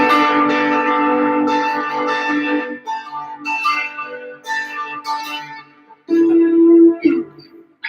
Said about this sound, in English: And that with a little bit of distortion sounds a bit like this.